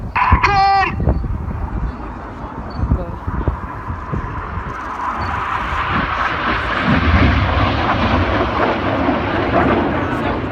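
Red Arrows jets fly the Cyclone manoeuvre at the Cosford air show in 2017, their roar swelling from a distant rumble into a loud, sustained rushing sound after a brief tonal chirp at the start.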